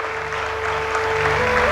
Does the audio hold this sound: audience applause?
yes